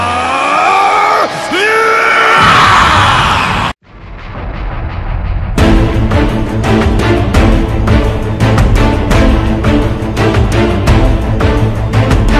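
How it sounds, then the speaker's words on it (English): Animated fighters Gogeta and Vegito let out loud, sustained battle screams and yells from an anime fight, dense and continuous, cut briefly by a sharp break before a roaring, music-backed stretch. "both Vegito and Gogeta went and they screamed"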